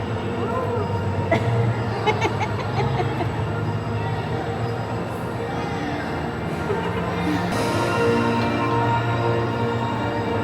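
A fast-moving amusement ride runs along rails with a continuous rumbling, clattering roll and occasional squeaks, heard up close under the chatter of riders.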